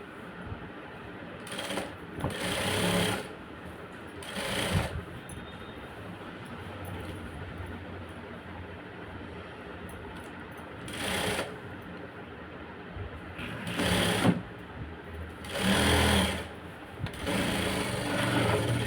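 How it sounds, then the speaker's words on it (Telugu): Sewing machine edge-stitching along a sleeve lining, running in several short bursts of fast whirring separated by quiet pauses, close up with no talking. "ఇలా దీని మీద మళ్ళీ ఎడ్జ్ కుట్టు చివరి నుంచి వేసుకోవాలి."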